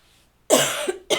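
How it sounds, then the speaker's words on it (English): A single close, throaty cough followed by a short second cough burst. "I sit down and I start to talk and I cough."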